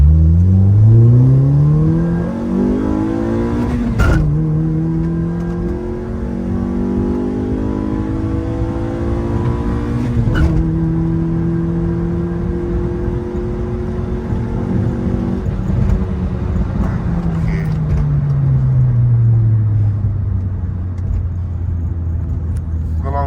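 A manual Honda Civic FD with a K20 engine, remapped and running E20 fuel, drives and accelerates, its engine note rising through the revs, dropping at gear changes, then climbing again, loud and close throughout.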